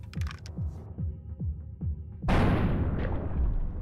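A run of evenly spaced mechanical clicks leads into one loud shotgun blast aimed at the dealer in Buckshot Roulette, its broad roar tailing off gradually.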